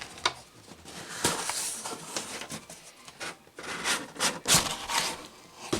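A box is opened by hand with rubbing, scraping cardboard sounds and flap rustles in irregular bursts, close and moderately loud.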